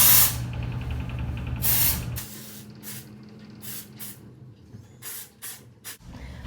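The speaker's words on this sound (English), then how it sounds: "So you just shake it and spray on roots and throughout hair." A can of Not Your Mother's Clean Freak Refreshing Dry Shampoo sprays onto hair roots. There is a long hissing burst first, then a series of shorter, sharp aerosol puffs, close and clear.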